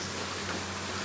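Heavy early-morning rain pours down in a steady, loud hiss with no break or voices.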